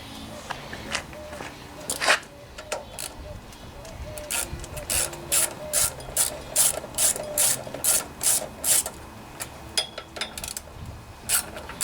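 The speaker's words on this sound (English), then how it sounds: "we have these two bolts here, or two nuts here, that we need to remove to get this cover off." A wrench ratchets on the nuts of a carburetor cover on a Honda 179cc side-shaft engine fitted to a Homelite pressure washer, with a close run of quick clicking bursts, sparse at first, then steady and rhythmic.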